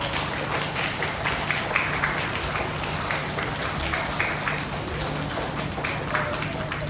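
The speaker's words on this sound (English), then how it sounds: "I expect you all to give them a huge round of applause" Steady, dense applause from a school audience at a Class 3 elocution and debate event, a continuous patter of many hands clapping at moderate volume without pause.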